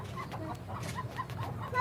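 A rooster and hens cluck in a steady stream of short, soft calls close by, with a few louder squawks near the end.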